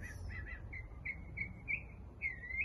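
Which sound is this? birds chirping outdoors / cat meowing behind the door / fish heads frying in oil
birds chirping outdoors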